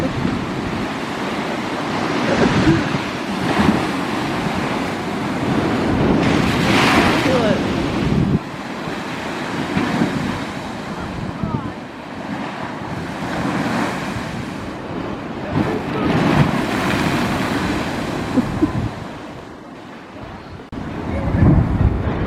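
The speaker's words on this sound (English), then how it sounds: "It had some really powerful waves." Powerful ocean waves at Seaburn Beach roar and crash in a continuous loud surge, with gusting wind buffeting the microphone throughout.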